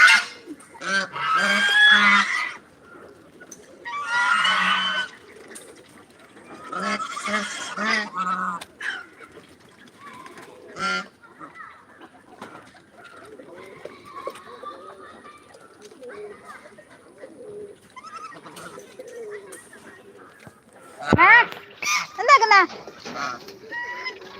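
Ducks call loudly at a farm with raucous, honking bursts. The calls arrive in several clustered rounds, with quieter stretches of scattered calls between them and a final noisy flurry.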